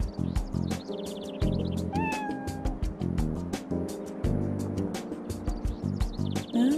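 A cat meows in the video game Trauma Team, with one clear drawn-out mew over steady looping game music.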